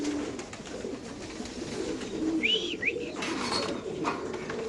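A racing pigeon coos softly amid faint background noise, with a couple of short bird call notes midway; the sound is quiet and somewhat distant, with no talking.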